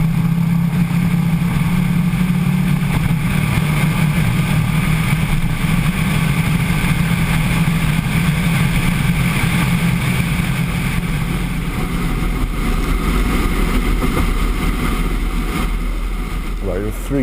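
Bugatti Veyron Grand Sport Vitesse passing at over 400 km/h on a speed-record straight, a loud sustained engine and wind roar that holds steady for the whole stretch, swelling with a brief surge near the end, no talk over it.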